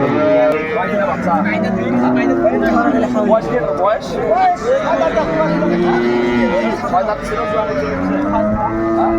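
Cows and calves moo at a rural cattle market in Dinajpur where dairy cows and calves are traded, with long, loud overlapping calls going on throughout, and people's voices mixed in.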